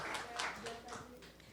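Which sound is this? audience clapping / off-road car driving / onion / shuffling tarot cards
audience clapping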